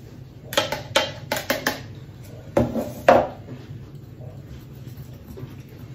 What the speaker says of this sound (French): je vais mélanger 160 g de sucre glace à la cuillère magique